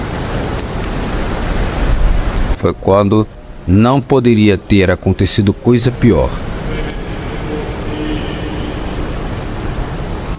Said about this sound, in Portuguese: os primeiros pingos grossos de chuva já começavam a cair